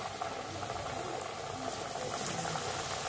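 Suppulu bubbling steadily in hot oil as they deep-fry, a continuous dense fizzing and popping hiss that stays even throughout.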